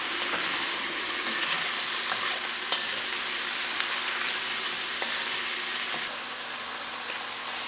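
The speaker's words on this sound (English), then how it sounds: "Once the oil starts to sizzle, I'm going to turn the heat down to medium." Mushrooms frying in sizzling oil over medium heat, a steady dense crackle and hiss with occasional soft clicks of stirring, close and even throughout.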